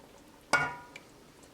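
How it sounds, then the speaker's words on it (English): A single sharp clink of a ladle against a serving bowl rings briefly as halibut fish curry with peas and potatoes is dished out, followed by a faint second tap in an otherwise quiet kitchen. "I have my serving bowl ready and I'm going to dish out."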